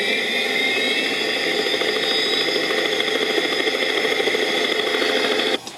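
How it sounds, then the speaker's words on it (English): A 2012 Hess toy rescue helicopter runs its sound effect: a steady, loud electronic engine whir with a rattling rotor tone that holds evenly, then cuts off abruptly near the end. "That one's kind of like engine starting, and then the rotor's starting to turn, and then it lifts up into the air"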